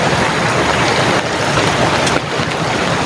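Heavy monsoon rain pours steadily in a flood, a dense continuous hiss of downpour close by, with a brief dip in intensity partway through and no voices.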